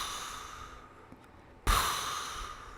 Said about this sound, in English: Jamie is doing this little thing that she does that's like almost a snore